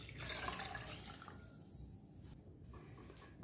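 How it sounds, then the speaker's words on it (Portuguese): Water pours steadily from a tap into a cooking pot for bean stew, a continuous splashing rush that thins briefly before resuming, fairly quiet and close. "Vou colocar uma quantidade de água aqui"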